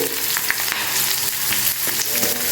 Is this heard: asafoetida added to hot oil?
yes